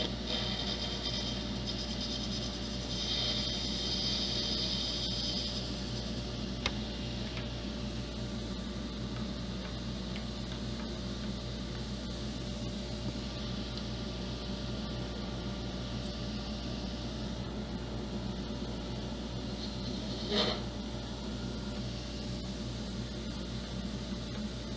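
A dust collector runs beside a lathe during resin egg turning, a loud steady broadband roar with a constant hum and a couple of brief clicks over it.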